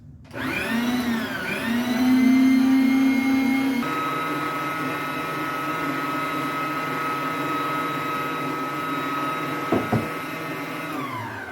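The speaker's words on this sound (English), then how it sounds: "We're gonna whisk this till it's mixed." Chocolate cake batter being whisked gives a steady, loud whirring drone. It rises in pitch early, then holds evenly for about ten seconds, with a short clatter near the end.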